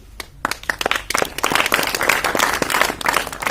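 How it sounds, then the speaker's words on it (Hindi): Applause from a school assembly gathered for a Republic Day (26 January) celebration, welcoming a guest speaker: a few scattered claps build quickly into dense, sustained clapping from a sizeable crowd. "थोड़ा ताली बजा करके स्वागत किया करो"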